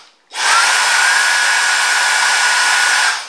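A vacuum cleaner with a powered rotating brush starts up and runs with a loud, even, airy whir that holds steady for about three seconds before tapering, with no talk.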